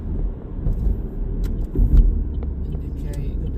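Vauxhall Astra 1.6 CDTi diesel estate at speed in fourth gear, a steady low road and engine rumble heard from inside the cabin, with a brief louder thump near the middle and someone talking over it.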